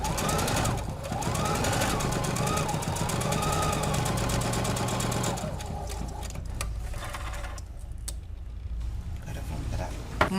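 A sewing machine runs close and loud, stitching folded fabric strips for a Christmas wall hanging in a continuous rapid mechanical whir, then slowing into a few short bursts and stopping.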